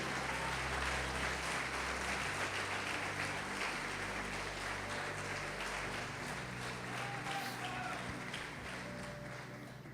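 A church congregation claps steadily, a dense, sustained wash of applause filling the hall throughout, slowly tapering slightly toward the end.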